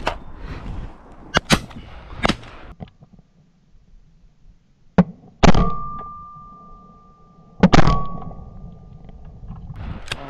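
Shotgun shots fired at ducks in England, several sharp reports spread across the stretch: a quick pair early, then single loud blasts with booming tails, heard outdoors with faint background between shots.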